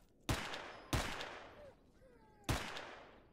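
Three loud, sharp gunshots ring out in the video game S.T.A.L.K.E.R. Anomaly, two in quick succession and a third after a pause, each with a short decaying echo and no talking.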